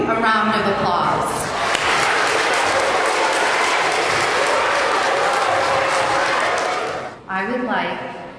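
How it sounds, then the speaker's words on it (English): Faculty and staff at a school give standing students a loud, sustained round of applause that swells and then fades, with a voice speaking briefly before and after. "can you please stand in your places so the faculty and staff may give you a round of applause?"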